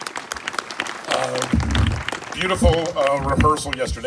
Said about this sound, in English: How about a big round of applause for those two people right